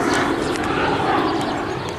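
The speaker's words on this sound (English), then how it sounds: "Airplane up there." An airplane passes overhead, heard as a broad, steady roar that stays fairly loud and even across the two seconds, with no talking.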